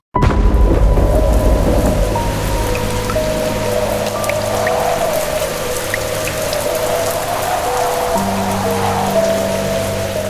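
Heavy rain and rolling thunder in a horror animation: a loud, continuous downpour opens with a sharp crack and then settles into a steady roar with low thunder rumbling beneath it, and no voices.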